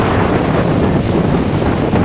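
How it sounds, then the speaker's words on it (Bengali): Strong wind blows hard across the Bhagirathi riverside, roaring and buffeting the microphone continuously and loudly, with no one speaking. "দেখতে পাচ্ছেন প্রচণ্ড জোর হাওয়া চলছে,"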